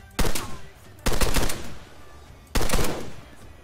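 Rifle fire in Arma III, three bursts of several rapid shots each, loud and close, with short quiet gaps between them.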